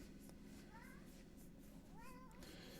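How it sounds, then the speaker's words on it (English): Two soft cat meows, one short and one longer, heard faintly in a room over a steady background hum. "He's meowing at us today."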